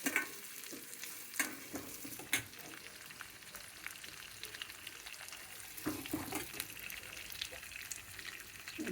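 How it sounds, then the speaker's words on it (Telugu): Garlic with green and dried red chillies fries in a tempering, a soft continuous sizzle with intermittent stirring scrapes and a few clanks of a spoon against the pan, quiet and close, with no speech. "పచ్చిమిరపకాయ ఎండుమిరపకాయలు వేగాలి."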